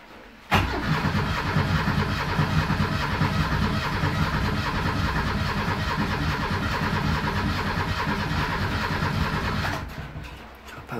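A 1968 Renault 10 on a cold, damp day cranks and catches almost at once, then settles into a steady, slightly uneven idle that holds for about nine seconds before cutting off abruptly. Close and loud, with no talking.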